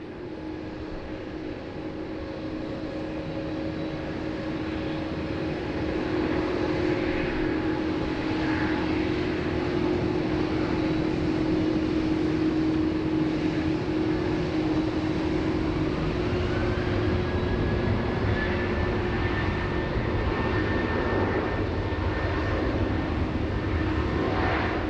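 A Qantas jet airliner departs Sydney Airport for Hong Kong in heavy rain, its engines a distant, steady roar with a rising whine, over a constant background hiss of rain.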